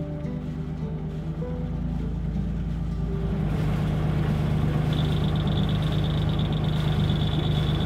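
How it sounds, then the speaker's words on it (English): A boat engine, just refilled with coolant, runs loud and steady at close range throughout, with a deep rumbling drone that shifts midway into a busier, higher-pitched hum and a faint whine, and no talking. "I just refilled the coolant and I'm gonna fire it up"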